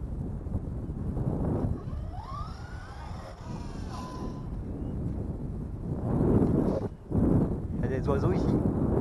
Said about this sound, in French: s'il y a du vent dans la vidéo, hein, je n'y peux pas grand chose, on est sur la plage.